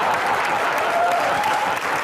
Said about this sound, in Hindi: तुम भाई ताली बजाती रहती हो बीच में बैठ के